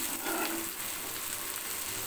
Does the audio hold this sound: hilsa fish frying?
yes